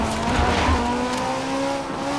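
Car in a racing video game sliding on the handbrake, a loud tyre screech over a droning engine tone that shifts pitch as the car swings through the turn, with no talking.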